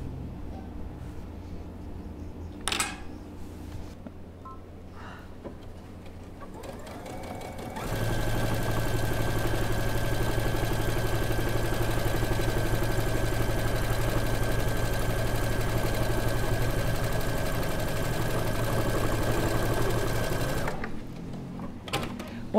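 A sewing machine runs steadily for about thirteen seconds, stitching through many layers of fabric for a textile art piece, its hum loud and even after a quieter start with faint handling noises, then stopping abruptly.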